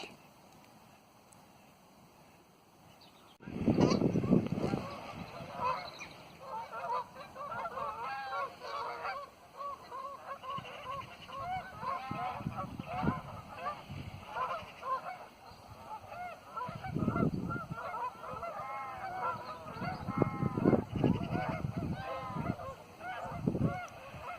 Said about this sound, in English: the arrival of what, 40 Canada geese? 50 Canada geese?